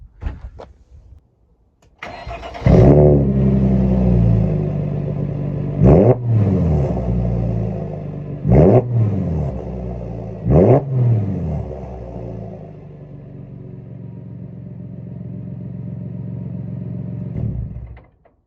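A Mercedes SLK 3.5-litre engine cranks and starts, then revs sharply several times in quick bursts before settling into a loud, rumbling idle that cuts off.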